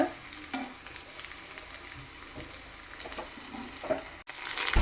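Steady crackling sizzle of curry leaves hitting hot oil for a tempering, continuous and close, with a few clinks of a stirring utensil and no talking.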